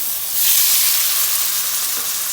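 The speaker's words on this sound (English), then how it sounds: "Now it's time to put our onions, tomatoes," Onions and tomatoes hitting a hot pan for a soya chunk gravy, giving a loud, dense, continuous hissing sizzle that swells quickly and holds steady, close up and with no speech.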